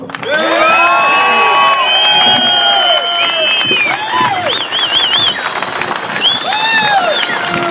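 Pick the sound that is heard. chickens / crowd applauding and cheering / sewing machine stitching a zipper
crowd applauding and cheering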